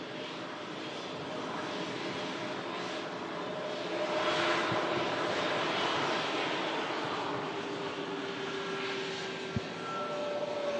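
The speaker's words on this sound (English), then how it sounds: "Lovely sound there from the Pratt & Whitney engines as well." Pratt & Whitney engines on an airliner at Manchester Airport in stormy weather give a steady broadband jet roar that swells midway, with faint tonal whines, a couple of brief knocks and only slight voice in the background.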